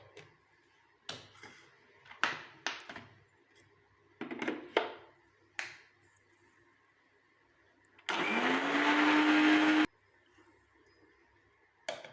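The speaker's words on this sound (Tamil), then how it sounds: "இதை வந்து நம்ம அரைச்சி நல்ல ஒரு பவுட்ரு மாதிரி ரெடி பண்ணி கொண்டுட்டு வந்துடலாம்" An electric grinder runs in a short, loud, steady whir as it grinds black cumin seeds into powder, coming after a few scattered clicks and knocks.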